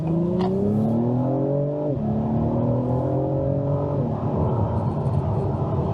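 A 2022 Acura TLX Type S engine revs up through the gears in Sport Plus mode with steady rising pitch and two clear shift drops, loud and close, a sporty sedan accelerating hard.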